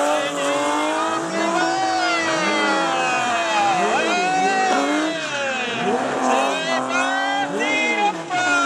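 A BMW drift car driven by Benjamin Blandamour slides continuously with loud, sustained tire squeal and a rising-falling engine wail, each repeated swell of the revs arching through the slide, with a commentator talking over the din.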